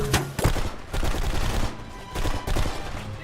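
Gunfire in the shooter game Blacksite: Area 51 comes in several rapid bursts of automatic shots separated by short gaps, loud and punchy in the foreground.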